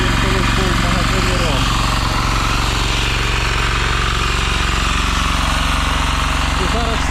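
Centaur diesel walk-behind tractor, once run on gas, chugs steadily at close range with a loud, continuous mechanical rattle throughout, while faint voices can be heard in the background.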